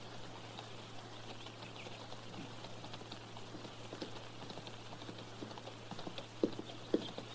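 Horse hooves clip-clop in a 1953 western radio drama as a rider comes back, a steady soft patter of hoofbeats under a faint hiss, with two sharper knocks near the end and no voices.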